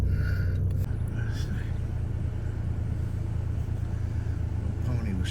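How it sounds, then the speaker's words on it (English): Cars passing along a road, a steady low rumble of traffic throughout with a few swells as vehicles go by, fairly close, with faint whispery background noise. "People driving by."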